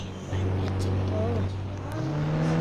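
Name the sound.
vehicle engine in video game Indian Bike Driving 3D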